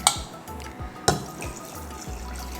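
Half a litre of water poured into a pot of chicken biryani, a splashing pour with a few louder sloshes and gurgles and no talk.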